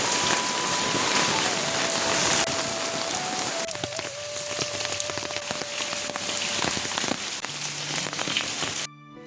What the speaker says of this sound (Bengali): মুষলধারে হচ্ছে বৃষ্টির